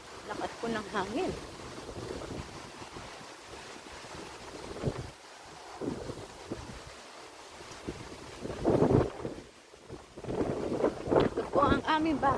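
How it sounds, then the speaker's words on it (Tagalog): Strong wind gusting outdoors at dusk, rumbling buffets against the microphone that swell and fade, with a voice talking intermittently over it. "Lakas po ng hangin."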